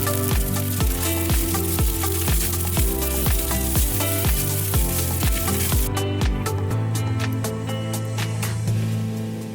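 Spam fried rice with green onions is mixed in a hot pan after the heat is turned off, with a soft frying sizzle heard beneath a prominent rhythmic music track.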